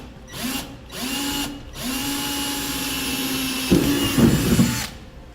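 A power drill bores a pilot hole through the bed of a 2015 GMC Sierra 3500 pickup for a fifth wheel hitch, whirring in several close bursts with a steady whine, ending in rougher grinding as it bites through the metal.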